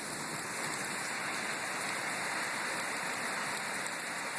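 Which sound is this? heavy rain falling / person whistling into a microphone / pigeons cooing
heavy rain falling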